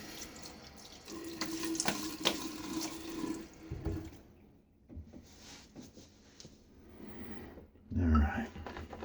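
Tap water runs and splashes into a sink as a face is rinsed before a shave, a steady close wash with sharper splashes and a brief gurgle near the end.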